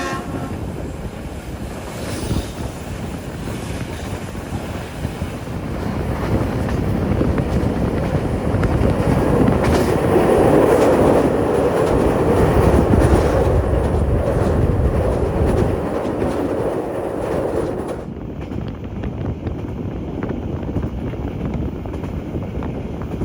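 A Manahan executive-class passenger train rumbles steadily along the rails between Cirebon and Yogyakarta, heard from inside the carriage as a continuous loud low roar that swells midway and eases near the end.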